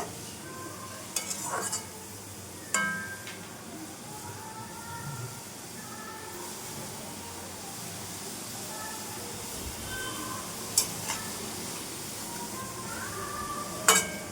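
Onions frying in oil in a home kitchen pan for chicken biryani, a steady soft sizzle throughout with occasional clinks of a spoon or utensil, faint and close.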